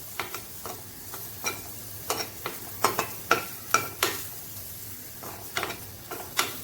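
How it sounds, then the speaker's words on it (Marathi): Onion being dry-roasted in a pan while making a Konkani-style tender jackfruit curry: repeated sharp scraping and stirring strokes against the pan with a faint sizzle beneath, close and steady with no talk. "इथे मी कांदा भाजायला घेतला आहे।"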